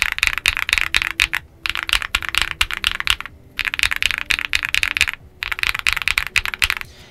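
Rapid bursts of typing on an iNKC65 keyboard fitted with Akko Starfish switches, close and crisp, with short pauses between runs of keystrokes and no talking.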